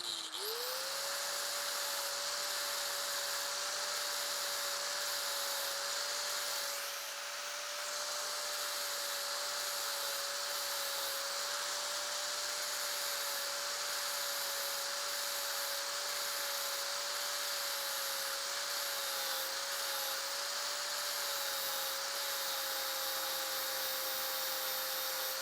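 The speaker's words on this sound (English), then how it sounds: "it's much easier to just grind the heads off" An angle grinder grinding the pin heads off a motorcycle chain, a loud, steady high-pitched whine held for about twenty-five seconds with a brief dip partway through, close by and with no talk.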